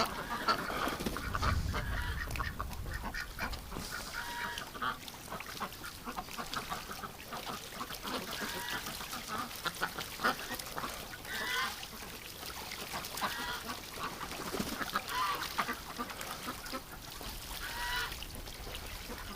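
A flock of ducks in winter quacks and honks continuously around fresh water nearby, a busy overlapping chorus with splashing and shuffling underneath.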